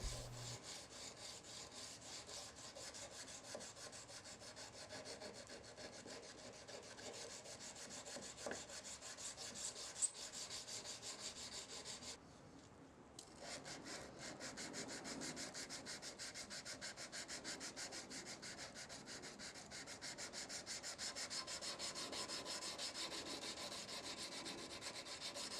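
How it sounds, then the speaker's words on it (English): Steady rasping strokes of sandpaper worked by hand along a steel knife blade, stepping from 220 up to 600 grit, close and continuous with a brief pause midway. "Now I'm going to hand sand the knife from 220 grit up through 600 grit."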